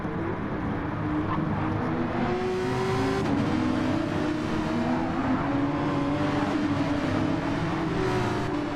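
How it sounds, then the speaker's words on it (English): Porsche Cup race cars at Suzuka in Gran Turismo 7 drone steadily with engines revving and shifting pitch, a continuous loud mechanical roar throughout. "Rest of the cars continue on their way."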